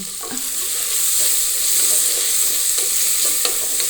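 Onions and potatoes fry in a pan of hot tempered oil, giving a loud, steady, close sizzle with occasional light stirring clatter and no talking.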